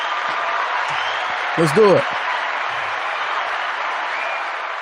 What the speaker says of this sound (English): I need the applause though